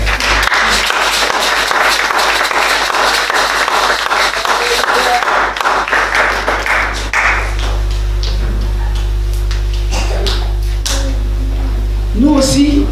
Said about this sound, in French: On acclame le Seigneur.